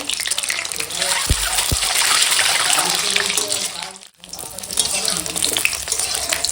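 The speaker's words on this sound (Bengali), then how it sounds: "আমি ডিম সিদ্ধ করে ছাড়িয়ে নিয়েছি এই ডিমগুলো ভেজে নেবো" Peeled boiled eggs frying in hot oil give a steady close sizzle with bubbling and occasional stirring clatter, continuous and loud, briefly dipping near the end.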